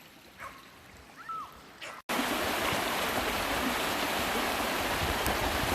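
Brook water pouring over a four-foot drop at Tunnel Brook, a loud, dense, continuous rush of falling water filling the scene after a brief quieter stretch with faint voices at the start.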